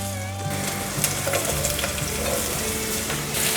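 Shiitake mushrooms and red bell pepper stir-fried in a pan, a loud steady sizzle with crackles and utensil scrapes as ingredients are tossed, no talking.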